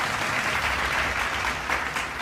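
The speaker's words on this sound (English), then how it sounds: "a round of applause for the school Sky Blue Diamond Academy" An audience at a school debate semi-final applauds in a thick, continuous roar of clapping, loud and even throughout, with faint voices underneath.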